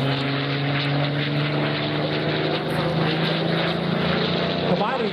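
A Spitfire fighter plane performs aerobatics overhead at an air show in Slovakia, its piston engine a loud continuous drone throughout, while an announcer talks over it.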